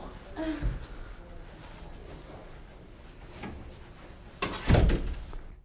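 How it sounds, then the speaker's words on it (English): A front door swings open with a brief creak near the start, then a heavier thunk and rattle close by near the end, with faint background sounds between. "That's the front door."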